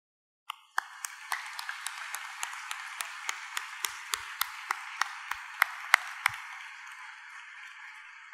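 Clapping at a graduation ceremony in a hall, a thin steady wash with sharp individual claps standing out, starting abruptly and fading toward the end.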